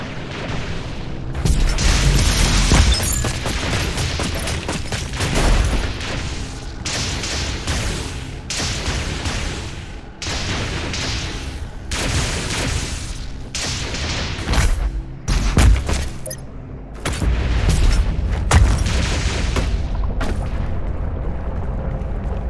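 Heavy artillery fire and explosions from the DOOM Eternal level The Betrayer, a loud, dense barrage of booming blasts and gunfire that continues with brief gaps through the whole stretch, with no voices.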